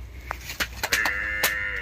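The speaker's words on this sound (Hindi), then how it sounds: "ये दोनों भैंस दिखाओ" A Jafarabadi buffalo lows once in a short, rising-then-falling moo, fairly close, amid brief thumps and clatter at a farm in Igatpuri, Nashik, with no talking.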